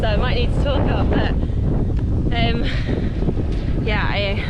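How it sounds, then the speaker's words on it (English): Strong wind buffets a cyclist's camera microphone on a road ride near Calpe, a loud, constant low roar filling the whole stretch, with someone talking over it. "as you can hear, it's really windy"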